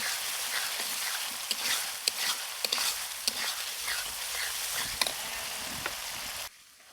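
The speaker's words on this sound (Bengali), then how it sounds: "মশলা থেকে ঘ্রাণ ছেড়ে দিয়েছে আর মশলাটাও হালকা ভাজা হয়ে গেছে" Whole garam masala with pastes of dried chili, cumin, black pepper, coriander and ginger, plus turmeric and salt, frying and being stirred in a pan for a duck curry: steady close sizzle with scattered sharp crackles and spatula scrapes, no talk, cutting off near the end.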